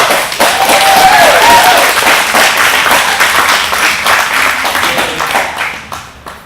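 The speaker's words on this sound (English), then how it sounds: "So round of applause." An audience applauds steadily for several seconds, a dense wash of clapping hands that holds loud and even before tapering off toward the end.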